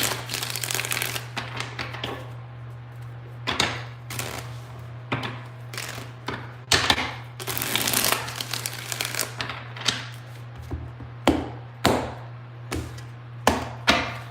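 Tarot cards are shuffled by hand in a series of quick riffling, slapping bursts, some sharper than others, close up over a steady low electrical hum.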